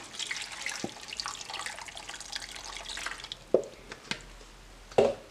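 Water is poured into a cooking pot over sweet potatoes with piloncillo, a steady faint splashing stream followed by a few louder sharp drips and knocks, with no speaking.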